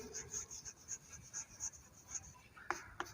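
Pen or pencil scratching across paper while a maths division word problem is written out by hand, soft rhythmic strokes up close with a couple of sharp taps near the end.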